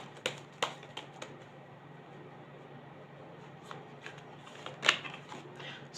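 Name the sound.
tarot cards being shuffled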